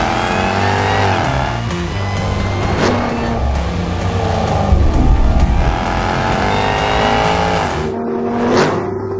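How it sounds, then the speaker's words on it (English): Jaguar XE Project 8 with a 600-horsepower V8 accelerates hard on a track, its engine note climbing through revs with gear changes, loud and close, then sweeping past with a rising, fading whoosh. "600 horsepower, I mean, it just accelerates, it goes."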